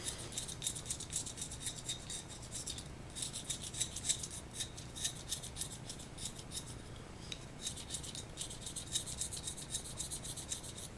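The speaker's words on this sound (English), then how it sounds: "Sharpening a pencil right now." A pencil being sharpened at a drawing desk gives quiet, repeated rasping strokes in short bursts with brief pauses, heard alone without talk.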